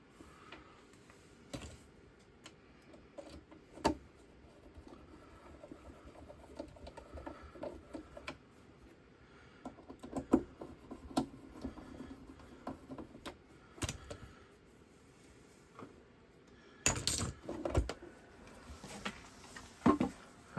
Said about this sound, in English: we have our 2 final screws to put back in